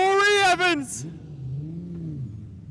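Production sedan race car, the Gimpy 97, on a victory lap at Kingaroy Speedway: a loud voice opens briefly, then a steady, moderately distant engine drone swells and eases as the car circles.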